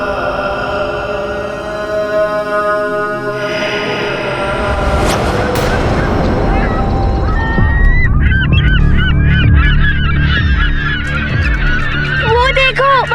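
Geese honk loudly and continuously in a dense flock, with calls growing busier and more layered toward the end and no voices heard.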